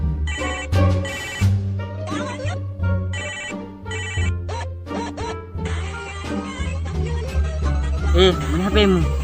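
A telephone rings in repeated electronic bursts mixed with background music and voices in a comedy scene, the ringing recurring loudly across the clip.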